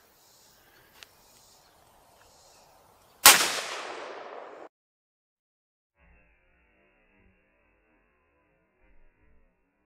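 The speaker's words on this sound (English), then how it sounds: "Squeeze that trigger off." A single loud crack from a 300 WSM short-magnum hunting rifle fired at a frozen watermelon outdoors, followed by a ringing echo that dies over about a second and a half, then quiet.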